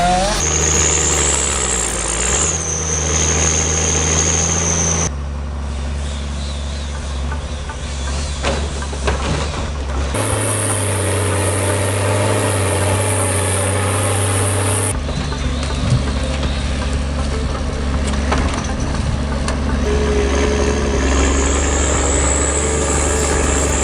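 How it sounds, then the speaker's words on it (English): A heavy truck stuck in mud runs its engine loudly, a constant roaring drone that shifts pitch and character in several abrupt steps, with no pauses. "The engine roars, mud flying everywhere"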